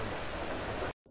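Heavy monsoon rain pours in a dense, even hiss during a motorcycle ride, loud and continuous before stopping abruptly, followed by a faint trace of softer noise.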